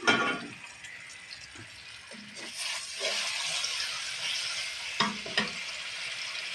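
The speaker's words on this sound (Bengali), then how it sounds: "১ কাপ পরিমাণ তেল দিলাম। এখানে আমার পেঁয়াজ, রসুন, আদা সব মিশ্রণ করা আছে।" Onion, garlic and ginger paste hits hot oil in a pan, a steady close sizzle and hiss with a few clinks and stirring knocks, no talking.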